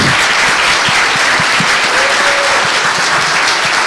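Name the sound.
audience applause for Miguel Lawner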